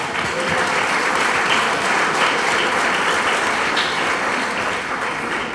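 Church congregation clapping steadily and loudly during a sermon, a dense, even applause that holds for several seconds with no speech over it.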